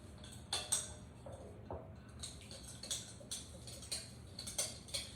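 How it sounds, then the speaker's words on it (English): A spoon stirring squash pieces in a dish, giving faint, evenly spaced clinks and taps repeating about twice a second, close and quiet over a low background hum. "We're going to get a spoon and stir all this up."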